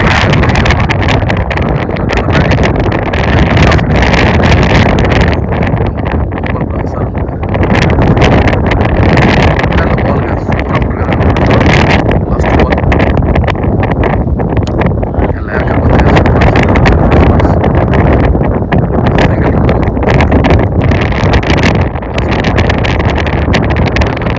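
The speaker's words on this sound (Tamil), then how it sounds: "கடுமையான காற்று, ஒன்றுமே பண்ண முடியல." Loud, continuous wind buffets the microphone for the whole stretch, roaring and gusting without letup, at an outdoor cricket tournament match.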